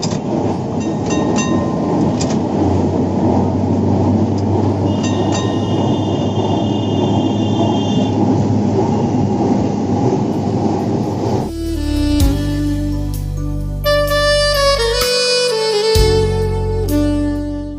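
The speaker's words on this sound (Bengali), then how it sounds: "ট্রামের ঘর ঘর আর টুংটাং শব্দ শুনতে শুনতে এগিয়ে চললাম।" A Kolkata tram rumbles steadily along its rails, loud and close. Later, metallic clanking and ringing bell tones sound over the drone.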